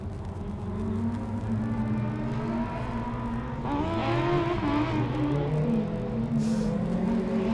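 A Formula Student race car at the 2012 FSG autocross event is driven hard around the track, its engine rumbling and revving in a continuous, loud drone with rising and falling pitch as it accelerates, no talking over it.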